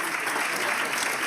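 Audience applause at a European symposium, a dense burst of many hands clapping, full and steady throughout the brief moment, with no voices heard over it.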